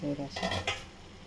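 A spoon scrapes and clinks against a pot while peeled potatoes are stirred, a few quick metallic knocks and scrapes close by over a second, with a brief voice at the start.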